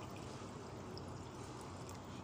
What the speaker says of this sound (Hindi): अब इसमें जो है वो मैं एक ग्लास पानी डाल रही हूँ